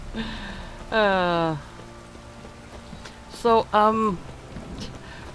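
Heavy rain pours down in The Witcher 3 as a steady, washing hiss, with a voice speaking briefly over it twice.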